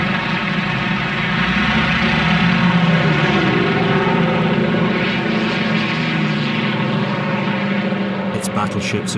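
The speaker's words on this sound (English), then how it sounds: "Wave after wave of Corsair and Sky Raider fighters attack the North." Corsair and Skyraider propeller fighters over Korea in wartime, a steady loud engine drone that holds throughout, with a narrating voice over the top.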